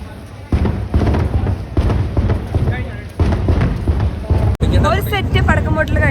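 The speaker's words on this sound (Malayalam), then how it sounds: "ഇനി അടുത്ത സെറ്റ് പടക്കം പൊട്ടൽ ഇവിടെ എവിടെയോ നടക്കുന്നുണ്ട്. സൗണ്ട് നല്ല കേൾക്കാം" Distant fireworks bursting at the Nenmara Vallangi festival, a run of deep booms and thuds heard from afar amid loud crowd noise, with people talking close by throughout.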